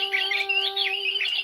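A bird squawks and chirps in a steady, close, bright run of calls, with no talking.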